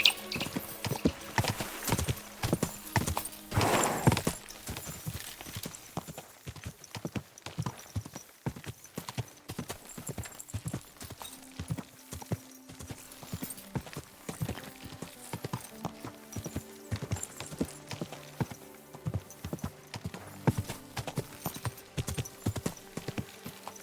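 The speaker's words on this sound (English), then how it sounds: "My, what a beautiful horse!" Horse hooves clip-clop steadily in the video game Kingdom Come: Deliverance II, a dense, continuous rhythm of close hoofbeats with occasional whinnies and ambient game sounds underneath.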